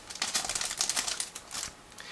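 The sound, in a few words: scissors cutting a sealed plastic bag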